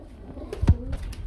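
A single pigeon coos nearby at a pigeon farm, a short low throaty call over faint background noise.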